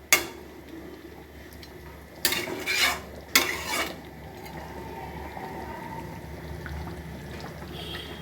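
Pieces of shankar fish (stingray) stirred and turned in a pan, a brief clatter at the start, then two louder scraping bursts midway over a low steady background.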